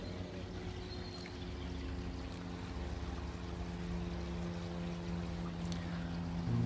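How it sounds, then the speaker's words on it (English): Water runs steadily through a Bakki shower filter on a koi pond, a continuous close splashing and trickling rush with a low hum underneath and no voices. "The Bakki shower running over there"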